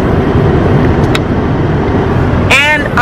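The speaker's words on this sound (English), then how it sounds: "I have to let my car warm up" A car engine warming up before a drive to work, heard from inside as a steady, loud low rumble. A brief chirping tone near the end rises above it.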